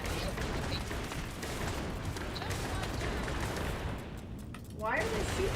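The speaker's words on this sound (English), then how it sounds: "Why are they shooting at me?" Enemy gunfire in the Starfield video game: a dense, continuous crackle of shots and impacts under game noise, loud throughout, with a brief sweeping effect near the end.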